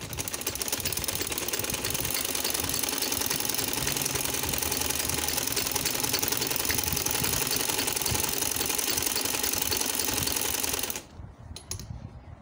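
A sewing machine stitching a trouser, a steady rapid mechanical whirr running for about eleven seconds before stopping, followed by faint handling noises.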